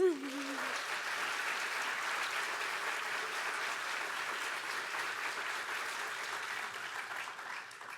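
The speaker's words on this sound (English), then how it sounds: "let's give him another round of applause" Sustained audience applause at a transfer achievement celebration, a steady dense wash of many hands clapping that holds evenly for several seconds after a brief voice at the start, then tapers slightly at the end.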